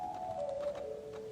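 A single soft, sustained organ flute stop tone glides slightly downward in pitch, quiet and breathy against faint room noise.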